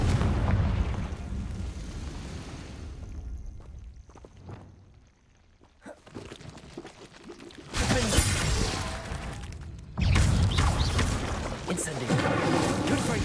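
Booming bursts from the Confringo explosive spell in Hogwarts Legacy, a rumbling blast early on, then two loud eruptions several seconds apart, mixed with game sounds and voices.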